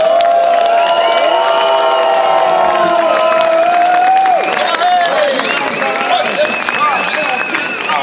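A festival crowd at the 50th Banjo Jamboree bluegrass festival in Čáslav, 2022, loudly welcomes a legendary Czech bluegrass band as the last act of Friday night, with steady applause under sustained cheering, whoops and whistles.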